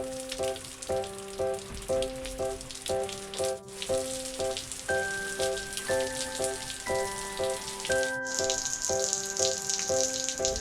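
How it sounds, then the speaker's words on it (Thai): Steady rushing water of a waterfall in Kanchanaburi during the rainy season runs throughout, with a simple repeating melody of bright tones playing over it. "นี่มีน้ำไหลลงมาตรงนี้นะคะ"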